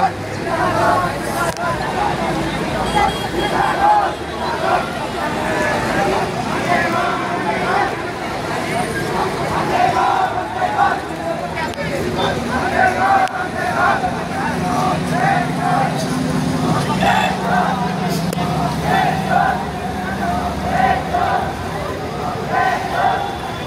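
Crowd of a Gen-Z street protest in Kohalpur, a dense outdoor babble of many voices with shouting and traffic-like rumble, steady and loud throughout.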